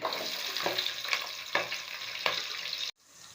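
Whole spices (cinnamon, cloves, cardamom) and large onion fry in about 200 ml of oil for Ambur-style chicken biryani, a steady bright sizzle with a few soft stirring bumps, cutting off abruptly near the end.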